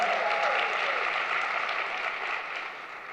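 Sustained applause from a banquet audience at a newspaper's 200th anniversary dinner, a dense steady wash of clapping that fades slightly toward the end.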